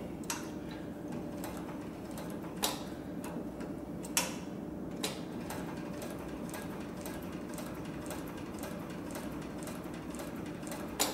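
An industrial Cowboy sewing machine stitches at a quickening pace under pedal control, giving a steady, close mechanical ticking over a low motor hum with a few sharper clicks.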